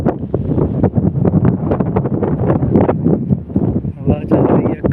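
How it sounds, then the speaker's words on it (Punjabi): Wind blowing through a village, heavy gusty rumble buffeting the microphone throughout, with a person talking over it. "ਹਵਾ ਚੱਲ ਰਹੀ ਹੈ, ਗਰਮੀ ਠੀਕ ਠਾਕ ਆ ਇੱਥੇ ਵੀ।"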